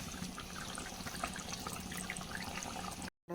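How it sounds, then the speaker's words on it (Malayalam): Curry bubbles in a pot on the stove while chicken roast is cooked, a steady close, watery simmering and bubbling that continues evenly before cutting off abruptly near the end. "തിളക്കട്ടെ, നന്നായി തിളക്കട്ടെ."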